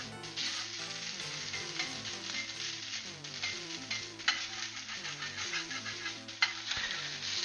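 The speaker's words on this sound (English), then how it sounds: "I've got some bits that are stuck on the pan I'm scraping off and into the rice" Steady loud sizzle of rice frying in a hot pan, with scraping and stirring as stuck-on bits are worked loose from the pan surface and mixed into the rice; a couple of sharper scrapes stand out, no talking.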